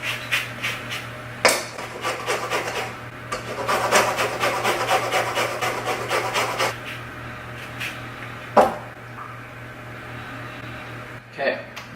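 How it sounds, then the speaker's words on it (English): Lemons being zested on a metal grater make repeated rasping strokes in short bursts, close and moderately loud, with a steady kitchen hum beneath and a few clunks. "I need the juice and zest of 2 lemons."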